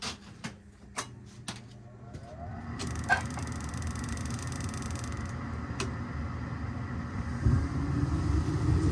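A gas furnace relights after its annual maintenance: a few sharp ignition ticks come first, followed by a sudden rushing whoosh as the burners catch and settle into a steady, close roar.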